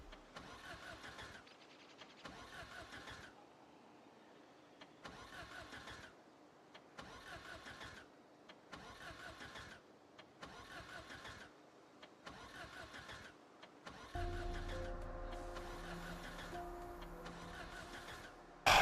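Repeated engine cranking bursts from a car being hotwired in the Project Zomboid game, about eight grinding attempts separated by short pauses before the motor finally catches and runs steadily at the end.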